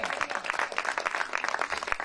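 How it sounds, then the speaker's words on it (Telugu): An audience at a Telugu church sermon claps in dense, steady applause, close and continuous throughout. "కొట్టు చప్పట్లు ఇంకా గట్టిగా"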